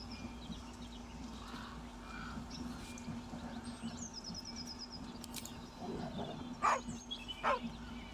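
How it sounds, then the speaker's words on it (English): A dog in a video game gives two short barks near the end over a quiet ambient bed with faint bird chirps and a low hum. "Oh, I see a dog."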